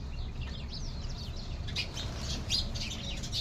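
Birds arriving at scattered grain chirp in quick, fairly faint bursts at a short distance over a low, steady outdoor background rumble, with no talking.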